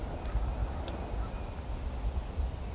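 Wild turkey toms gobbling from their roost at dawn in spring woods in South Carolina, several birds calling in short bursts, faint and distant over a low outdoor rumble.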